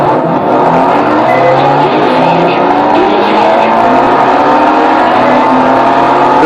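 Sustained car engine roar from a hard driving video game, loud and continuous with steady revving and tire noise throughout, no talking over it.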